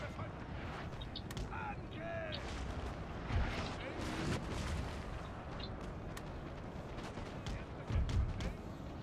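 Musket volleys and booming cannon fire in a Waterloo battle in Napoleon Total War, a dense ongoing rumble of distant shots and explosions beneath someone talking.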